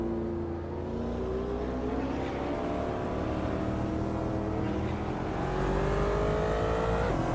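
Race car engines drone and whine steadily in a racing video game, several overlapping engine tones rising in pitch as the cars accelerate, with no talk.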